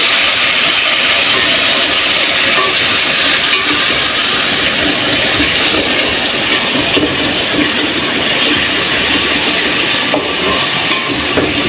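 Ginger garlic paste fries with golden onions in hot oil, giving a loud, steady, close-up hiss that runs unbroken throughout, with no voices.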